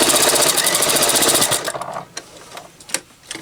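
A sewing machine stitching a fabric microwave bowl, running in a fast, loud mechanical rattle for about a second and a half, then stopping, followed by a few quiet clicks and handling noises.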